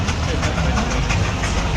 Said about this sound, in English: There's the road engines having another go at the hill on the other side.